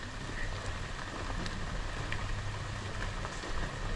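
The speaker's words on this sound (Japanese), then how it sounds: "すごい雨じゃん。" Heavy rain pours down steadily during an island car-camping trip, a dense, continuous wash of drops drumming on surfaces close by, with no voices.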